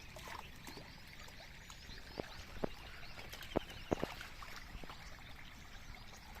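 Water runs through a gravel filter into a borewell for recharge, a steady soft rushing trickle broken by a few sharp splashes or knocks, fairly faint.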